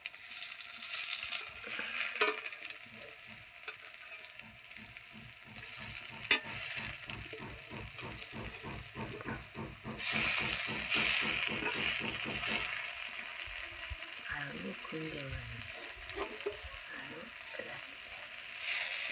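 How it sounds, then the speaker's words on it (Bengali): Pumpkin seed fritters frying in hot oil in a wok, a continuous bright sizzle with a stretch of rapid rhythmic scraping as they are turned over, then a louder burst of crackling. "এইভাবে উল্টে পাল্টে লাল লাল করে ভেজে নিতে হবে।"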